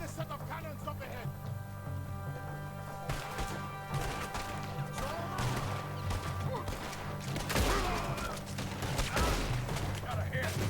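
Cannon blasts and a rattle of gunfire from the video game Red Dead Redemption 2 boom repeatedly over a steady bed of game noise, with heavy, crashing bursts clustered through the middle and end, and voices in the background.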